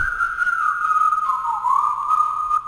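A steady, clear whistled melody from a song sample, bright and sustained, sliding gently in pitch with a brief dip in the middle, carrying on without pause.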